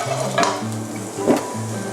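Ingredients for Thai mackerel chili paste are dry-roasted in a pan over moderate heat, a close, soft rustling sizzle with a couple of stirring scrapes and a faint hum underneath.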